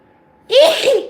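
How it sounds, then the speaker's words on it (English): One sharp, close sneeze breaks a near-silent room, a quick intake followed by a forceful burst. "I had to sneeze"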